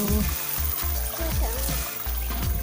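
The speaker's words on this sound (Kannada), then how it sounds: "ನೋಡಿ ನೀರಿನ ಸೌಂಡು" Water trickles and splashes steadily in a small stream beside a garden plantation, a continuous close wash with voices murmuring underneath.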